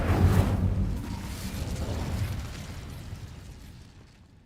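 Incendio fire spell cast in Hogwarts Legacy video game: a loud whooshing burst of flame right at the start that rumbles on and slowly dies away over several seconds, no talking.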